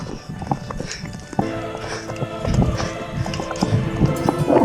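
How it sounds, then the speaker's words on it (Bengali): A herd of water buffalo walks past on a Jamuna river char near Sariakandi, with close, uneven hoof thuds and shuffling footsteps over open ground mixed with faint outdoor background noise. "মহিষগুলো সব চলে যাচ্ছে"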